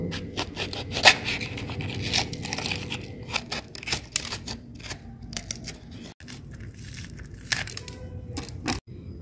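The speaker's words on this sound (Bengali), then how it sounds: "আর বাদ বাকি যে লঙ্কাগুলো আছে আমি চাকুর সাহায্যে কিন্তু চিড়ে মাঝখানে যে বীজগুলো আছে সেগুলো বের করে নেব।" A knife slits open large chillies and scrapes out their seeds, giving close, irregular crisp cutting and scraping sounds with soft rustles, with no voices.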